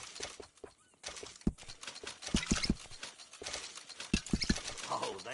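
Horse hooves clip-clopping in Red Dead Redemption 2, landing in short uneven bursts of close, sharp knocks, with a possible whinny in between.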